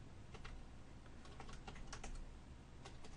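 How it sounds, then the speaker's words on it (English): Steady typing on a computer keyboard while a database name is entered, with quick clustered keystrokes and short pauses, close and fairly quiet against a low background hum. "I will type AdventureWorks here."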